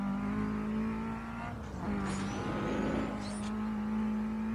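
A car engine drones steadily at high revs in Need For Speed Undercover, close and loud, with a short dip around a gear change and some tire and road noise mixed in.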